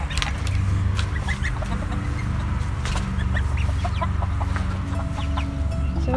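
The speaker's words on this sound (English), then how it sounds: "So today we moved the ducklings in with the baby chicks." Baby chicks and ducklings sharing a coop on a homestead, a steady mix of high peeps, chirps and clucks over a constant low rumble, busy and close throughout.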